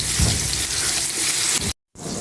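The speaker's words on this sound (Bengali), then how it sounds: "মাছগুলো দিয়ে দিলাম। এখন একটু সুন্দর করে লাল লাল করে ভেজে নেব।" Hilsa fish pieces frying in hot oil, a loud continuous close sizzle with a brief abrupt silent gap near the end.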